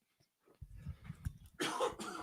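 A single harsh cough bursts out close to the microphone during a late-night paranormal talk show, preceded by faint rustling and low handling noises before the loud, rough burst.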